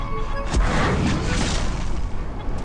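A booming explosion in the video game Free Fire, one heavy blast with a rumbling, crackling tail lasting a couple of seconds, loud and close, with no speech over it.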